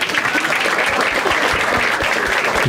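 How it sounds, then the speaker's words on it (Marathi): A crowd at a Marathi stand-up comedy crowd-work show breaks into a full round of clapping, dense and steady from start to finish, close and loud, with no talking over it. "पण छान एकदा टाळ्या होत्या याच्यासाठी."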